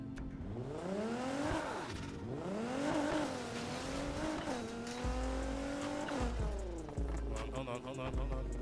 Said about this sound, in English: Well, at least they're accurate with the car noise. You hear that noise? You hear that V engine?